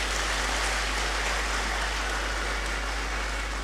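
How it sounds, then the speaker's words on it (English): A crowd at a university congregation ceremony claps continuously in a dense, even wash of applause that holds steady from start to finish. "Shall we give him another round of applause?"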